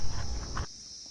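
Crickets chirp in a foggy, empty park at dawn as a steady high drone, with a few footsteps over the first half before the scene goes quiet and only the insect tone remains.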